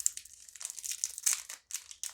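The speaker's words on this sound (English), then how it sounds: "Very thin wax paper it's wrapped in." Thin wax paper crinkles and crackles in quick bursts close by as it is unwrapped from a coconut candy bar from a vintage military ration pack, with no voices.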